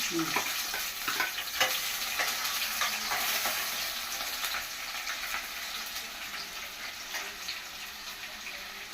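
Cabbage pieces frying in oil with tempering spices in a home kitchen pan, a continuous sizzle mixed with stirring scrapes and clatter, moderately near and fading slightly toward the end, without speech.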